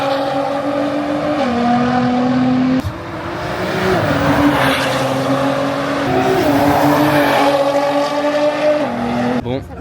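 Car drifting in Japan, an engine droning and revving through steady shifts in pitch with tire squeal, loud and fairly near, with speech in the background.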